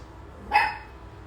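A single sharp dog bark, fairly close, rising briefly out of quiet room noise.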